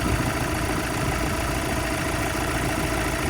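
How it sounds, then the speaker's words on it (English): A 2018 Ford Transit idles with a steady, close engine drone, and a constant broadband hiss of air leaking from the brake servo runs through it without a break, with no talking. "Can you hear an air leak? I can."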